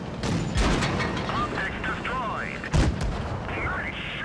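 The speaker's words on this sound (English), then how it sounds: "Put another shot into the SU," A T29 tank fires its cannon in a video game: two heavy, booming shots, the first early and the second sharper near the middle, over a constant bed of engine rumble and battle noise.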